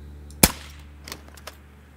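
A single sharp rifle shot rings out at a doe in the hunting game Call of the Wild, a loud crack followed by faint scattered ambient clicks and rustles.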